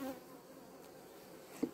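Honeybees hum steadily at an opened hive during beekeeping work, a faint, continuous low buzz with one brief louder bump near the end and no voices.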